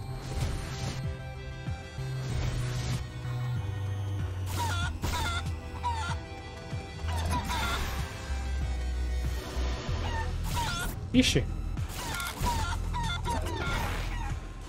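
A chicken clucks and squawks in the action game Guacamelee! 2, its sharp calls mixed with crashes, hits and busy game music, while a voice speaks briefly over the clamor.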